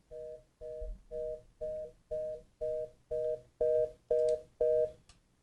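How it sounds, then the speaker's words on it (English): A telephone plays a reorder tone after 911 is dialed on a UCME phone system: ten short, evenly spaced beeps repeat rapidly and loudly, with no talking. "Hear the reorder tone."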